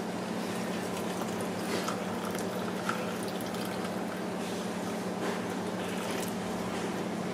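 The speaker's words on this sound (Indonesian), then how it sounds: "kita rendam kunyit dan serai yang sudah kita potong-potong ini dengan air panas yang sudah kita masak tadi" Hot water pours over chopped turmeric root and lemongrass, making a steady, soft liquid wash with faint dripping and trickling. It runs continuously at a low, even level with no voices.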